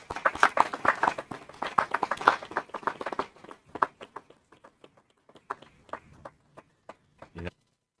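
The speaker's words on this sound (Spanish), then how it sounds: "Un aplauso a Rafa." An audience gives a speaker a round of applause after a round-table talk. It starts as a burst of clapping and thins out into scattered, individual claps before stopping.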